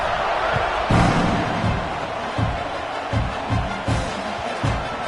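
Football stadium crowd at an Oklahoma versus Michigan game roars in a dense, steady wash of cheering, with louder swells and scattered thumps and shouts rising through the noise.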